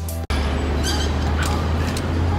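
Steady low engine hum and road rumble inside a car heading to the airport, continuous and fairly loud after a brief cut near the start, with no talking.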